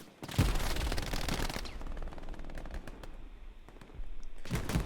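Machine gun fire in a World War II Omaha Beach shooter game, heard as dense, rapid bursts of close gunfire with a brief lull in the middle before another loud burst near the end.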